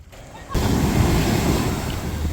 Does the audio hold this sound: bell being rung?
no